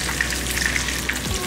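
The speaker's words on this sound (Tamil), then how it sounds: "நல்லா மீன் வந்து பொரிக்கும் போது நல்லா வாசனையாக சூப்பராக" Oil sizzles and crackles steadily as fish fries in a pan, a close, dense spattering hiss with small pops.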